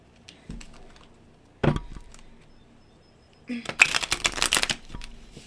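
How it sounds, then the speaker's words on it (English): Tarot cards being shuffled by hand: a soft brief riffle early, a sharper clack near two seconds, then a dense, louder burst of papery riffling and snapping toward the end, close and alone. "Never shuffle this way anymore."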